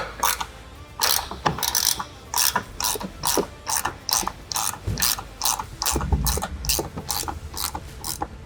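Ratcheting wrench clicks in quick repeated bursts, loud and close, while tightening a bolt during installation of aluminum doors on a CFMOTO UForce 1000 XL UTV, with no voices.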